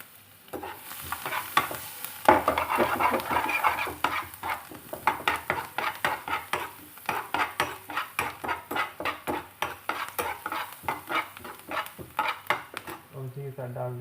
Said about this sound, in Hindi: अब हम इसमें डालेंगे अपनी प्याज।